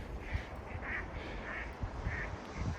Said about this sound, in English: it looks like I scared the crap out of some geese